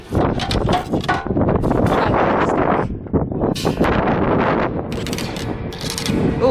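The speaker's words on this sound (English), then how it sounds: "it's bloody windy and it has lots of storms." Strong wind in Winton, outback Queensland, buffets the microphone in loud, continuous gusts, with rattling, clanking mechanical sounds mixed in and no talking.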